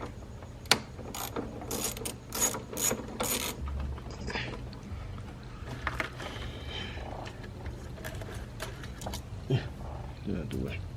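Ratchet working with a 7mm socket to loosen bolts on a Chevrolet Trailblazer SS, a series of quick clicking bursts early on followed by sparser clicks, moderately close, with occasional talk.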